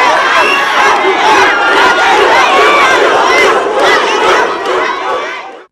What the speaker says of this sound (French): à l'arrivée de la voiture de l'administration pénitentiaire, ces trois personnes ont été reçues avec des acclamations et des mots d'encouragement